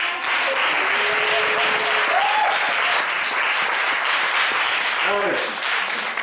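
Church congregation applauding God during a sermon, a loud, dense wave of clapping that carries on throughout, with voices calling out over it.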